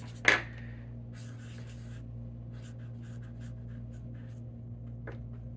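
A thin pen from a craft kit is pressed down with a short sharp tap, then scratches faintly and intermittently across paper in short strokes, close up over a steady electrical hum.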